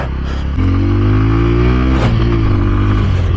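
A 2025 Bajaj Pulsar N125 with a 125 cc engine revs up close and loud, its pitch climbing steadily after a short lower-pitched opening, with no talk over it.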